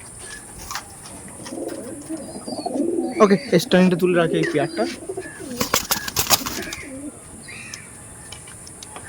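A pair of Teddy pigeons, male and female, coo softly nearby in a cage while someone talks over them, with a few wing flaps and sharp clicks partway through.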